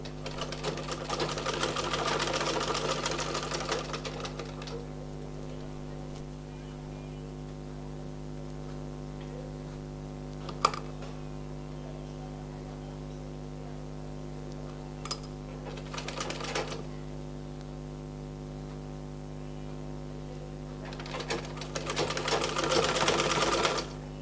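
A sewing machine stitches the gathered round neckline of a nighty, running in loud bursts at the start and end with quieter handling and a few sharp clicks in between.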